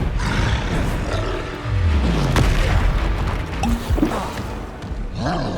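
Expelliarmus spell blasts fired in Hogwarts Legacy on PC, heard as a dense, continuous roar of booming magical impacts and swooshes layered with game effects, loud throughout.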